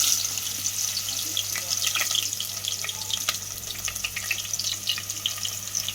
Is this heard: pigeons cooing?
no